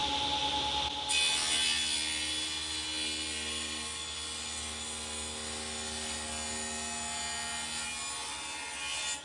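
A table saw cuts mortise sides in coffee table legs, its motor humming steadily, with a sharp rise into a loud, sustained rasping cut about a second in that slowly eases off and then ends abruptly, no voices.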